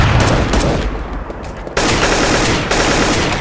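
Sustained automatic gunfire in Counter-Strike 1.6 on the cs_office zombies map, a loud dense rattle of rapid shots that dips briefly mid-clip and then resumes at full strength, with no voices.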